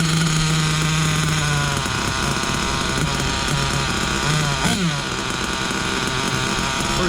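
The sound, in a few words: Ofna LX2 RC buggy engine running at throttle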